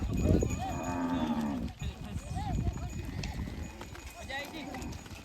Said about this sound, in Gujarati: લગભગ 550 ગાયો હશે